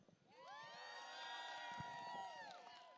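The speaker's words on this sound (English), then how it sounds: "Let's all give a big round of applause for Sarah Earnhardt." A hospital staff solidarity rally crowd cheers and whoops with high, ringing shouts, building over a few seconds, faint and distant overall.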